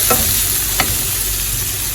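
Sliced green zucchini sizzles and fries steadily in a spoonful of oil in a home pan, with a few scraping stirs of a spoon cutting through the continuous crackle; no talking.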